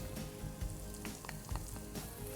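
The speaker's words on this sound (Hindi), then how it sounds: "और अब हम इसे क्रैकल करने देंगे." Cumin seeds crackle in hot oil in a pan, a faint steady sizzle with scattered soft pops and stirring thumps, close by and with no talk.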